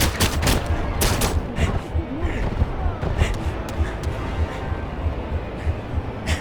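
Rapid gunfire in the video game 007 Legends, with dense bursts of shots and loud cracks running throughout.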